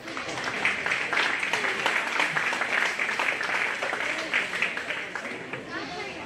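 Warm round of applause from the audience at a county fair livestock show for the young exhibitors, many hands clapping steadily for several seconds with murmured crowd chatter mixed in, tapering slightly at the end.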